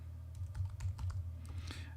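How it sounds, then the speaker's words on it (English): Steady typing on a computer keyboard as text is entered into a photo app's markdown section, with close, quick key clicks in an even stream over a low background hum. "So let me just start typing some text."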